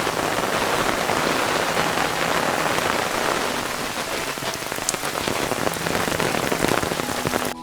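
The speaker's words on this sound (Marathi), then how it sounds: "तेवढ्यात पाऊस आला की थांबायचं नाव घेत नाही" Heavy rain pours down steadily, a dense, unbroken hiss of drops drumming on surfaces with no voices.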